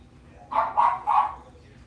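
Dogs barking three times in quick succession, close and loud against a quiet background, with faint voices behind.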